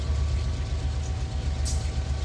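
Freight train with well cars rolling along in Run 8 Train Simulator, a steady low rumble of wheels and engine under continuous broadband rail noise, with no talk.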